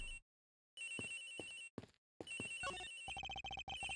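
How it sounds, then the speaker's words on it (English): A synthetic telephone ring in Ace Attorney Investigations: Miles Edgeworth trills in short bursts with gaps between, followed by a rapid chiming pattern, clean and electronic like a game sound effect. "The ringing is coming from somewhere around here."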